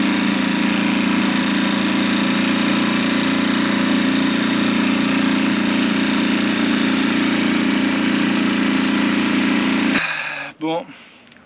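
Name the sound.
sailboat engine running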